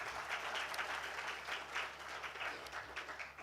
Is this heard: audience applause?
yes